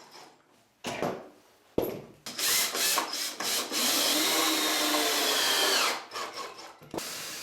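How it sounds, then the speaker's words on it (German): A cordless screwdriver fitted with a right-angle attachment drives screws while a workbench is built, a few short whirring bursts leading into one sustained, loud grinding run of several seconds before stopping, close up. "Sehr praktisch hier der Winkelvorsatz für den Akkuschrauber, um auch an schlecht zugänglichen Stellen zu schrauben."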